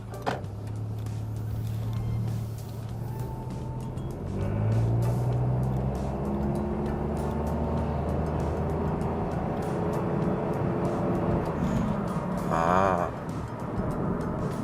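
A Honda City 1.0 turbo pulls away with a steady low engine drone that swells slightly around mid-clip, car noise continuous throughout with a brief higher whine near the end.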